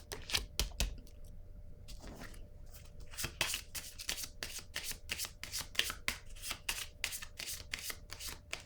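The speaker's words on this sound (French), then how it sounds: "Je vais déposer une carte ici." Tarot cards are handled on a table, giving a long run of crisp, close riffling and snapping card sounds in quick irregular bursts, fairly faint, with no talk over them.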